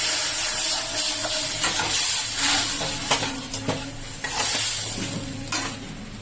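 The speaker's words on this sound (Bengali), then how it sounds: "যেহেতু মশলাগুলো শুকিয়ে যাচ্ছে সেটা আমি খানিকটা এর মধ্যে জল দিলাম" Water poured into drying spices frying in a pan hisses and sizzles loudly, with a spoon stirring and scraping in irregular clicks as the sizzle gradually settles.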